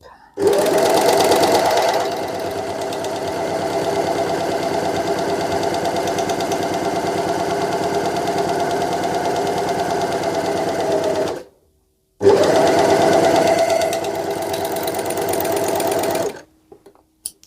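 An overlocker runs at a steady, loud, rapid whirr as it stitches a chain loop, breaks off briefly, then starts again for a few more seconds before stopping.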